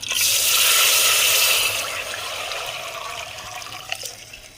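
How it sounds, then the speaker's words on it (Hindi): Liquid kahwa tea is poured into a pot with desi ghee for making sweet vermicelli, a loud rushing splash that gradually settles into a softer, steady pour. "अब इसमें डालेंगे हम कावा अपना।"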